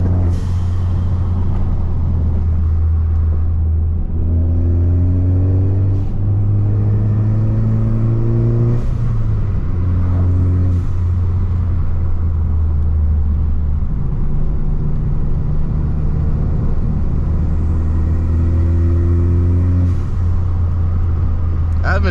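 Ford Focus ST driven hard along a canyon road, loud in-cabin engine drone rising and falling through repeated gear changes and revs, with wind and road rumble; someone talks over it.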